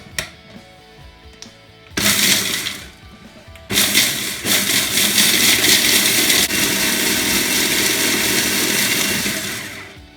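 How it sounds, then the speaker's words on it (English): Food processor pulsing roasted salted almonds: loud grinding whirs in short bursts, a brief pulse then a pause, then a longer steady run that cuts off near the end, with a quiet lead-in before the motor starts. "we're just gonna wanna pulse this first before we add the other ingredients"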